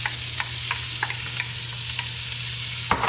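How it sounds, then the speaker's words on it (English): Onions and celery sizzling in a pan for clam chowder make a soft steady fry, punctuated by regular spoon scrapes and taps, close and quiet, no voices. "onions and the celery go in."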